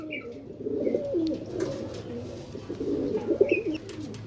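Pigeons coo in soft, repeated, rolling calls, close by and fairly quiet, with a few faint chirps over a low background hum.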